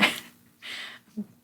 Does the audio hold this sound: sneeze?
yes